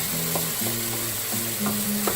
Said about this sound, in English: this is when you throw you some light soy sauce in there